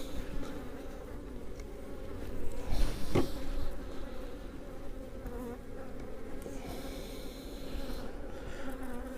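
Honey bees buzz steadily around a foam beehive being given a honey super, a dense close hum of many insects with one louder bee passing near the middle.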